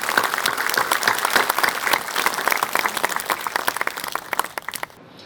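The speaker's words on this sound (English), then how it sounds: "So shall we give a round of applause to this team?" Loud, close audience applause at a students' union freshers' meet, steady crowd clapping for the team that fades toward the end.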